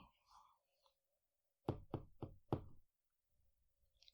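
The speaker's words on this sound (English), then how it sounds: "The tapping again, no louder than before" Four gentle knocks come in a quick, even run, close and clear against near silence, with faint soft rustles before and after.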